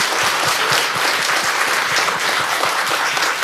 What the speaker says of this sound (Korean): 그렇게 생각하면 박수 한번 쳐보세요